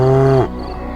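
A cow on a village farm in Megeri, Blora, moos once loudly and close by, a low drawn-out call that cuts off about halfway through and leaves quiet farmyard background.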